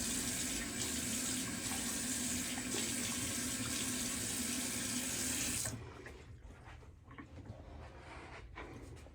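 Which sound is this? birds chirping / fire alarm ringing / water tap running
water tap running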